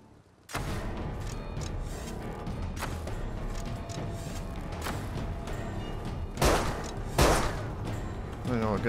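Gunfire in the survival game Rust erupts as a sudden burst of rapid shots and thuds, then carries on in continuous volleys, with two louder, sharper blasts near the end.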